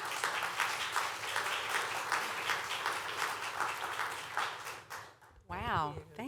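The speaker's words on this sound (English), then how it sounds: "Big round of applause." Audience applause at a 2024 Austin closing ceremony, dense and steady for about five seconds before it breaks off and a voice begins speaking over the fading clapping.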